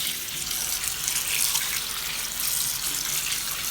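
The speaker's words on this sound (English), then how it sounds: "So we're going to rinse this with cold water." Cold tap water runs steadily into a large bowl of oxtails as they are rinsed, a continuous, loud, splashing hiss with no talk.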